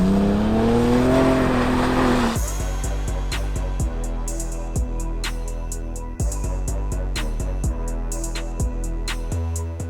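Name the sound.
Ford Bronco Raptor with AWE SwitchPath exhaust revving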